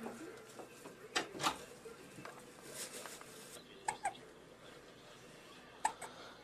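A baby hiccups softly several times at irregular intervals, faint and close in a quiet room with slight background noise.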